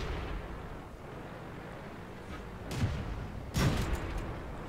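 A Tetrarch tank's cannon fires in a video game battle, with two muffled, booming shots over a low rumbling background.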